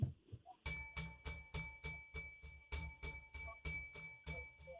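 A series of bright bell dings repeat in an uneven rhythm, each ringing briefly with a shimmering tail, close and clear with no talking.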